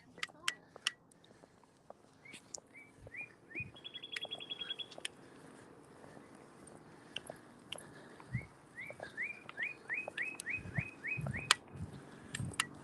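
A bird sings repeated bright, rising chirps in quick series, moderately distant, alongside faint background noise and some soft voice sounds.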